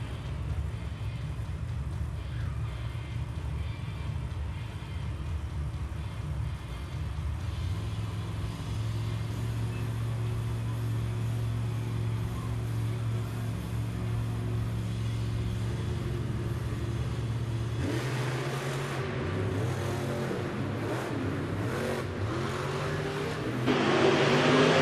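Monster truck engines rumble and rev steadily during a Monster Jam stadium race in San Antonio, a continuous loud drone that shifts pitch and grows harsher near the end, with faint announcer talk underneath.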